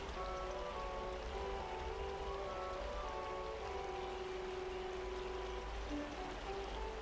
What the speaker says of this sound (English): Apparently this instrument was blessed by the rosy lady. I never expected it to sound so crisp.